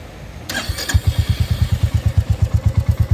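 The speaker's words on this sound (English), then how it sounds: "So this is the idle sound." A 2022 Royal Enfield Classic 350 motorcycle engine starts with a brief clattery crank, then settles into a steady, loping idle with an even, rhythmic thump, close and fairly loud.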